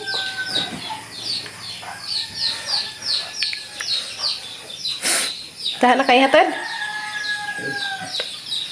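Chickens cluck and chirp repeatedly nearby in an uneven rhythm, while a person speaks briefly over them.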